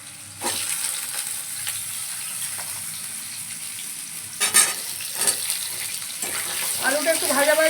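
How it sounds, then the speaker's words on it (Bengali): Potatoes fry in a pan for a vegetable dal dish, a moderate steady sizzle with occasional scraping stirs and clatter, rising slightly toward the end. "আলুটা একটু ভাজা ভাজা হোক"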